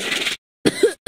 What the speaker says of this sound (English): Cover your mouth when you cough.